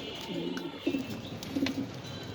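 A pair of Pakistani Budapest pigeons coo in soft, low repeated rolls, fairly close, with faint background ambience and no talk.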